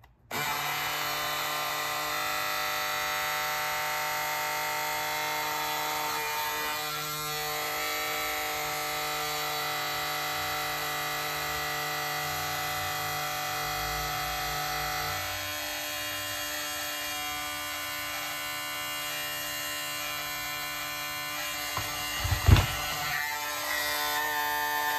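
An Andis electric shaver, suspected of burning out, hums with a steady high-pitched motor buzz for a long stretch, close and unbroken, with a brief handling knock near the end.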